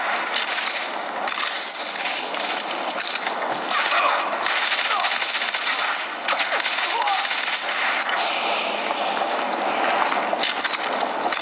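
Gunfire in a mobile shooter video game played with a Moga controller on an HTC One phone: dense, continuous rapid bursts of automatic fire with crackling impacts that fill the whole stretch at a loud level.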